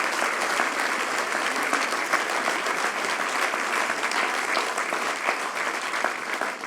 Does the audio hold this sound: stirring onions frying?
no